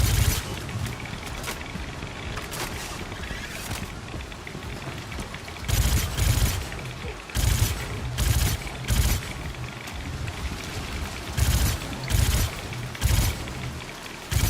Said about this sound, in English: I'm shooting this NPC,